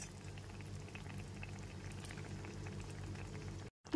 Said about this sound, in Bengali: গরম জলটা দেওয়ার পর যখন জলটা টকবক করে ফুটতে শুরু করবে